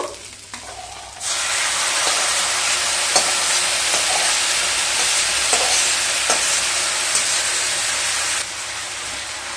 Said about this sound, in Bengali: লাউগুলোকে দিয়ে মশলার সাথে আবারও খুব ভালোভাবে মিশিয়ে নেব।